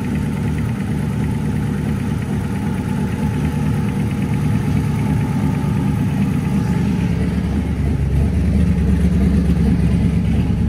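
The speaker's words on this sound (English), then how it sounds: "Initially, the valve train was extremely noisy and the starter was rubbing the flex plate." A car engine with an extremely noisy valve train that needs adjustment runs continuously, loud and close, with a dense rumbling drone and no pauses.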